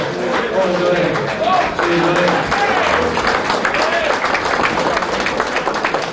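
A crowd at a London night out applauds a former underworld figure, steady loud clapping from many hands lasting several seconds, with scattered voices and cheers mingled in.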